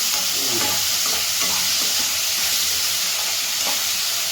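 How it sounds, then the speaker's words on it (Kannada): Tomatoes being stirred into a frying tomato curry, a dense continuous sizzle with occasional scrapes and clinks of a spoon against the pan, close up and alone. "ಇವಾಗ ಟೊಮೊಟೊ ಹಾಕೋಬೇಕು. ಆಮೇಲೆ ಫುಲ್ ಮಿಕ್ಸ್ ಮಾಡಬೇಕು."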